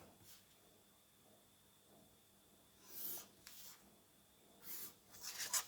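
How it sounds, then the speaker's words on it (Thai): A teacher writing out an exercise makes quiet, intermittent scratchy strokes in a few short bursts, close and faint against a near-silent room. "ขอเวลาเขียนแบบหัดแป๊บนึง"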